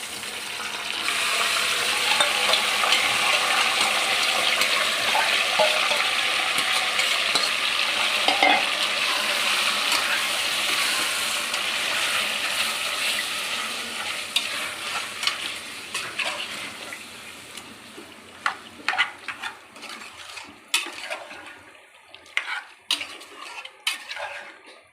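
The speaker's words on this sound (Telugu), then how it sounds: "ఇలా చికెన్ వేసుకొని ఒక 5 మినిట్స్ మనం హై ఫ్లేమ్లో పెట్టేసుకుందామండి" Marinated chicken for Karnataka-style donne biryani fries on a high flame while being stirred: a loud, steady sizzle with scraping fills the first fifteen seconds, then eases into quieter frying punctuated by sharp metal clinks of a utensil against the pan.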